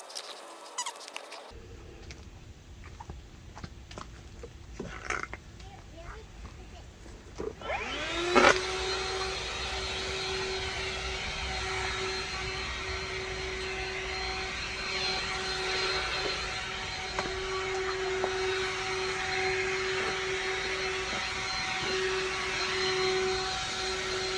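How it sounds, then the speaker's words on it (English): RIDGID 18V cordless 3 gallon wet dry vac switched to blower mode: after some handling clicks, the motor spins up and holds a steady, loud whooshing whine with a constant tone, close by and alone. "you can always switch sides, and you got a little makeshift blower"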